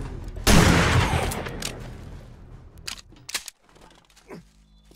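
Gunfire in the zombie survival video game 7 Days to Die: one loud close blast that decays into a long rumbling tail, followed by several sharper, quieter shots at irregular intervals.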